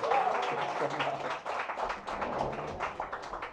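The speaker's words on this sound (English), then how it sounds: "please help me welcome with a huge round of applause" Audience claps to welcome a guest at a magazine cover launch event, moderate uneven clapping mixed with cheering voices and chatter, fairly faint overall.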